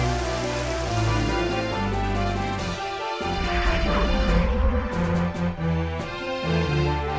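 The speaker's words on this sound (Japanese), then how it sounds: "やっと激しい雨が降り始めました。" Heavy rain falling in the Pokémon Stadium Gold and Silver video game, a loud continuous hissing downpour mixed with game music tones and a brief crashing hit partway through.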